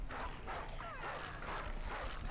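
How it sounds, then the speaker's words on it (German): A dog in the video game Far Cry Primal gives a string of short yips, whines and barks at close range against a low, steady game ambience. "Hör doch mal auf zu bellen."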